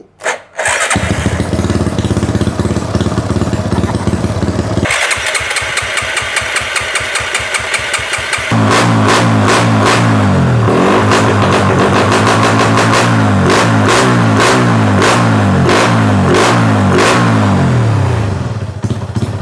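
A WAVE 125i 4V motorcycle engine starts up close and alone, settles into a steady running idle, then shifts to a faster, harsher rhythm of repeated revs that continue to the end.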